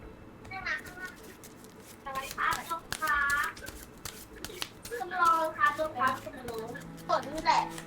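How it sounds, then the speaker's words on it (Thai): A young child plays close to a microphone during a Pokémon TCG match, giving short squeals and babbling cries between tapping, rustling handling noises and card shuffling, with brief pauses between bursts. "จะได้ยินเสียงเด็กเล่นไมค์ครับอยู่ข้าง"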